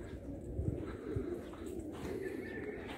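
Pigeons at a racing pigeon loft in Qassim, Saudi Arabia, give soft, low cooing, faint and intermittent, over quiet background noise.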